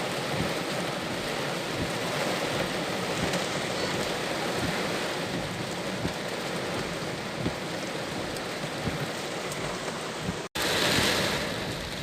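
Heavy rain pouring steadily onto Pune streets during a thunderstorm, a dense, unbroken roar of downpour with deep rumbles of thunder underneath, a brief cutout near the end, and no voices.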